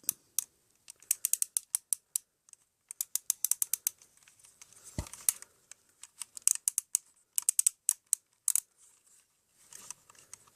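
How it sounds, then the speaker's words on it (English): Rapid bursts of dry plastic clicks and ratcheting from the ratcheted leg joints of a Bandai Hi-Metal R Regult toy figure, close up, coming in quick clusters with short pauses between them. "So, ratcheted joints."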